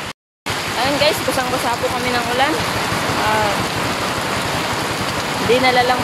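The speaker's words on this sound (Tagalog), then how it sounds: "Inabot na nga po kami ng ulan." Rain pouring down outdoors in a steady, dense hiss that continues throughout after a brief silent gap at the very start, while people talk over it.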